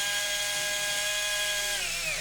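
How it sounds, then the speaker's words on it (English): Power drill whines steadily while pre-drilling drywall for anchors during a wireless doorbell installation, a loud continuous tone that dips slightly near the end. "so I am pre-drilling the drywall before I'm installing the drywall anchors"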